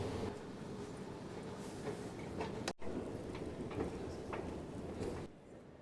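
A ride on London's newly opened Elizabeth Line: steady train rumble fills the carriage throughout, with faint rhythmic clicks and one brief sharp dropout near the middle before the noise eases toward the end.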